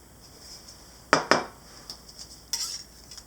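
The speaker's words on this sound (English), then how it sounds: "Move it around with the palette knife." A metal palette knife scrapes and taps through vegetable oil on an ink slab while cleaning brayers and tools: two sharp close clinks, then lighter scattered scrapes and a brief wet smear, with no talking.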